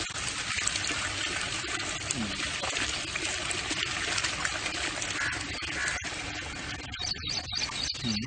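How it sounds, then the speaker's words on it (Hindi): A green neem-tinted liquid is slowly strained, giving a steady trickling, dribbling wash of liquid throughout, with a few brief clinks and faint handling sounds near the end. "हाँ पूरा छान देंगे इसको धीरे धीरे"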